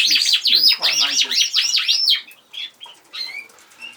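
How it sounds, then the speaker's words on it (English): Aviary birds and cockbirds chirping and calling loudly up close, a dense burst of rapid tweets and wing flapping that thins into scattered calls. "the noise coming from the birds and the cockbirds is really quite amazing"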